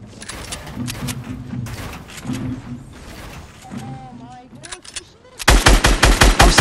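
Automatic gunfire in a video game, aimed at a building: a loud, dense machine-gun burst of rapid repeated shots erupts near the end, after quieter game sounds and mechanical clatter.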